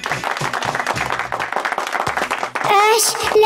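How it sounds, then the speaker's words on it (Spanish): A small group claps briskly and unevenly for Very Nice in a children's toy-show scene, the dense patter filling the first seconds before a voice rises over the end. "Vamos a darle un aplauso a Very Nice"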